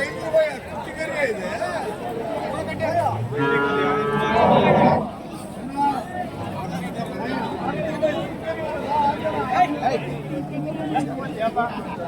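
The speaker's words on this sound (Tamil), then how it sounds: "மாடு கன்றோட இருக்குது." A Jersey cow with its calf moos once, loud and close for about two seconds, amid steady crowd chatter and people talking at a cattle market in Krishnagiri district.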